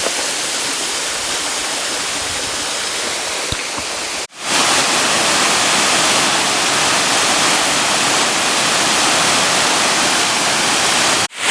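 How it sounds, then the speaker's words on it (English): Small waterfalls along a hiking trail roar as a loud, steady broadband rush, with a short break partway through before the constant wash of falling water resumes. "On our hike, there's a ton of tiny little waterfalls"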